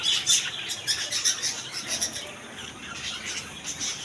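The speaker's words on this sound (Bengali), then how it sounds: "রানিং ঘুঘু পাখি এদিকে আছে" Doves and other small birds at a bird shop, with steady chirps, coos and squawks close by, overlapping in a busy, continuous chorus with no talk.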